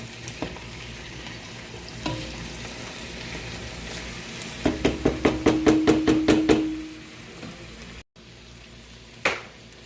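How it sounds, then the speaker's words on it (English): Calabaza squash sautéing with tomatoes and onions in a pan, a low steady sizzle broken by a quick run of sharp utensil knocks and scrapes midway, then a lone clack near the end, no voices. "You want to saute them almost to the point where they're a little bit soft."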